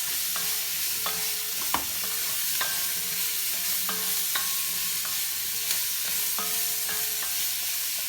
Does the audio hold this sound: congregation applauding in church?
no